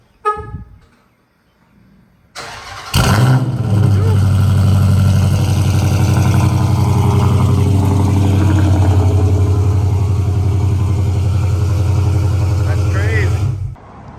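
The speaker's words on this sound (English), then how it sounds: "let's get this cold start, bro" A 5.7 Hemi V8 fitted with JBA long tube headers cold starts with a sharp crank and bark, then settles into a loud, steady, deep idle that runs close by for about ten seconds before cutting off.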